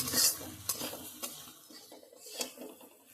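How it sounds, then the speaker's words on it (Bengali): Spices and green chillies sautéed in a pan over a high gas flame for a Bengali katla fish curry, with repeated close scrapes and clinks of a spatula against the pan over a soft sizzle, no talking. "গ্যাসের ফ্লেমটা বাড়িয়ে দিয়ে ভালো করে এটাকে কষে দিতে হবে"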